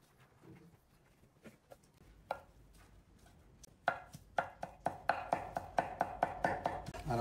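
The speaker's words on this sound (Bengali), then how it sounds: "চিকেন আপনারা চাইলে শ্যারেড করে দিতে পারেন, অথবা আমি যেভাবে কাটতেছি সেভাবেও কাটতে পারেন" A knife cuts through cooked chicken on a board, starting with sparse soft taps that build into a quick, regular run of crisp chopping strikes, close and fairly quiet, with no voices.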